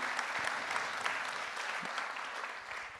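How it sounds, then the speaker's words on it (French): Audience at a French conference on hydrogen mobility applauds steadily, a fairly quiet wash of many hands clapping that holds at a constant level throughout. "On vous applaudit pour ce projet parce qu'il fallait, il fallait oser."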